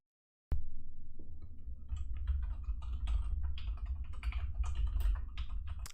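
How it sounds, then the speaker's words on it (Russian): Computer keyboard keys clatter in a fast, steady run of close, crisp clicks, picked up through a HyperX SoloCast desk microphone with no shock mount, starting abruptly after a brief silence. "Микрофон любит передавать звуки от вибраций, появляющихся при кликах на клавиатуре и при перемещении предметов."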